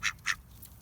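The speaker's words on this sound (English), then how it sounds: "That's what a male duck sounds like." A male duck gives two short, croaky quacks close by, raspy and low-pitched, followed by faint background noise with no talking.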